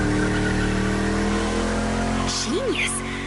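A DeLorean built as a drift car in The Crew Motorfest racing game has its engine rising in a short rev near the end, over a steady engine drone, while someone talks.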